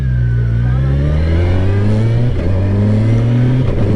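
A 2023 Kawasaki Versys 1000 SE adventure touring motorcycle accelerates hard, its engine pitch climbing loud and close, then briefly dipping at a quick-shifter gear change before rising again.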